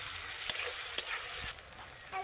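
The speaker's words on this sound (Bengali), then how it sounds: "পেঁয়াজ আর টমেটোটা খুব সুন্দর ভাজা হয়ে গেছে" Onion and tomato fry in a pan with a bright, close sizzle, stirred in regular scrapes about every half second; no one talks.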